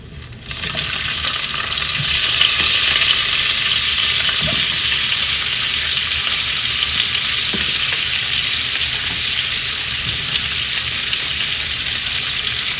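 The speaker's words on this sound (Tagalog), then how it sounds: "Nagluluto po ng munggo." Mung bean stew with tofu sautéing in a pan, a loud, steady, close sizzle of frying that runs without a break, with faint stirring clicks and scrapes underneath.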